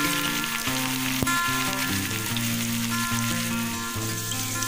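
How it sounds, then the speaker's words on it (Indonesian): Potatoes and tempeh fry in hot oil with a dense, continuous sizzle, loud and close, while soft background music plays underneath. "Untuk menggoreng kentangnya, di sini aku tidak terlalu lama, cukup coklat keemasan."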